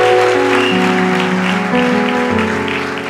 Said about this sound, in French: quelqu'un acclame le Seigneur pour une telle parole